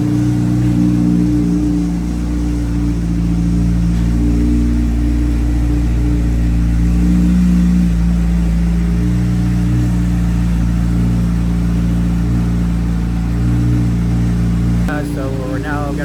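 A Corvette C8 Z06 with ported intake and throttle bodies runs loud and steady on a dyno, a sustained droning roar that cuts off abruptly near the end.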